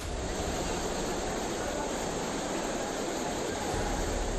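Floodwater pours in a heavy, steady rush down the stairs into a flooded basement coaching centre in Delhi, a dense continuous roar that stays loud and unbroken throughout.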